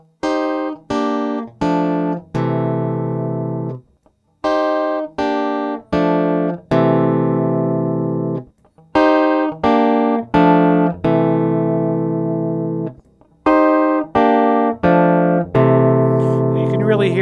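Chapman Stick chords played through the instrument's pickup filters, sounding as short clusters of plucked chords followed by longer sustained ringing chords, loud and close, with the string attack softened.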